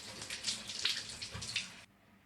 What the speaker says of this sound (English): First, I rinse it externally as a preliminary wash.